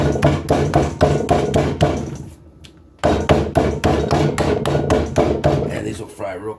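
A meat mallet pounds pork chops in a home kitchen, rapid loud repeated thuds in a steady rhythm with a brief pause, then more fast banging, close by.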